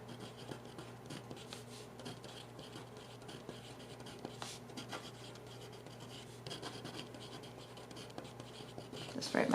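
Pen writing on a paper trouser front pocket bag pattern, soft scratchy strokes in short irregular bursts, close but quiet, with faint low talk in the background.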